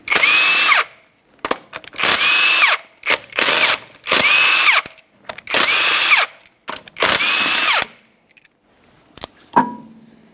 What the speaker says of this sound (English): we're going to remove all five of these lug nuts using a 19 millimeter so we can remove the wheel